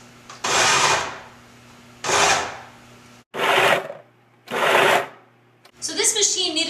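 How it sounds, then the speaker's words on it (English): Food processor pulsing cold butter into gluten-free pie crust flour, with four loud, close whirring bursts split by pauses, then a voice speaking at the end. "So whatever your machine is, just keep pulsing until the butter has gotten to be that small"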